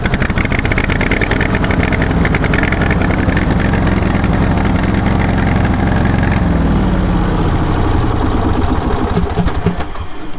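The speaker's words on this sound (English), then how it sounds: "Turn it a quarter turn counterclockwise and then run the key until it starts." A high-pressure pump truck's engine runs close and loud, a steady rapid idle chatter with no talk.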